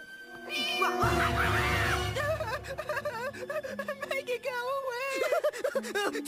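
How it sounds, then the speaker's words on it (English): A baby kitten meows in a cartoon, giving repeated high, wavering mewls over music, with voices speaking in between. "It's just a baby kitten."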